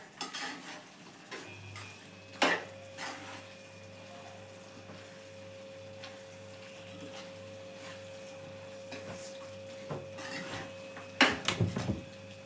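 A spinach and potato curry being stirred in a pan at home, with a soft background hiss and a few sharp scrapes and clatters of a spoon against metal, the densest burst near the end.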